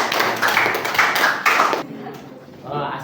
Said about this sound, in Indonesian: Tepuk tangan dulu kita semuanya.